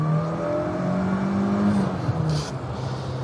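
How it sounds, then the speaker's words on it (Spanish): A 1990 Fiat Uno Turbo i.e. engine, heard from inside, pulls hard in second gear with the throttle wide open, its pitch rising steadily toward the rev limiter and then dipping briefly before climbing again, loud and alone. "Quiero que escuchéis ahora cómo suena el motor de este Fiat Uno Turbo estirándose hasta el corte de inyección"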